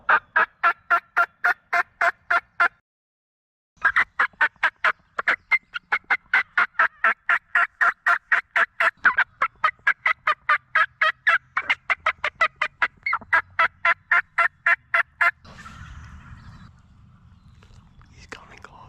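A wild turkey gobbler gobbles at the edge of a field in a late season hunt, a long string of rapid, rattling calls with a short pause near the start, followed by faint whispering near the end.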